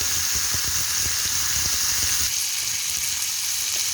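Chicken steak sizzles steadily on a grill pan, a loud, continuous frying hiss with crackling pops close up, easing slightly partway through.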